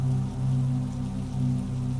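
Steady rain falls close by in an even, continuous patter with a low rumbling undertone, heard alone with no voices.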